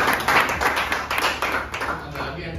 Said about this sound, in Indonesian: oh boleh mau tepuk tangan boleh.